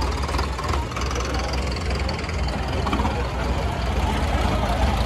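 A tractor engine labors during a tractor tug-of-war competition, a loud, steady low rumble throughout, with voices talking over it.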